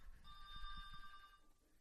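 A telephone rings faintly with one electronic trilling burst of about a second, quiet and distant in a low rumbling background.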